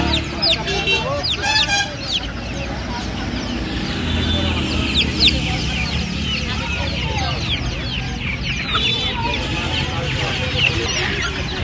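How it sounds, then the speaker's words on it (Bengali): Black silkie chickens cluck and chatter at a busy poultry market, a dense layer of close hen calls under someone talking, with market noise around. "এটা সিল্কি মুরগি আছে। দেখুন ব্ল্যাক সিল্কি মুরগি।"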